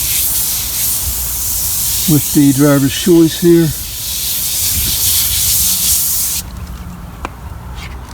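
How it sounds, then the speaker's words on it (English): A steady hiss of foam tire shine spray from an aerosol can runs throughout, with someone speaking briefly midway; the spraying cuts off near the end, leaving a quieter hiss. "I don't really like the spray action as much"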